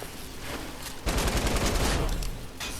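Submachine gun fire in Fortnite comes as a fast, loud, continuous burst of shots for about a second and a half, close up, after a quieter stretch of game ambience.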